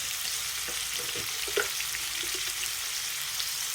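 Chilli paneer sautés in a hot pan, a steady close sizzle and frying hiss that runs throughout, with a few soft stirring scrapes and taps partway through.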